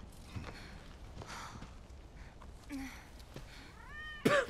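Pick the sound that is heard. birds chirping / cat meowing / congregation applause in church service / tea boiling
cat meowing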